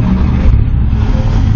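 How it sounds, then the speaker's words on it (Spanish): 1993 Nissan Tsuru car with an engine fault, its motor turning over and running with a loud, steady low rumble, close to the microphone. "y arranca el carro, señores."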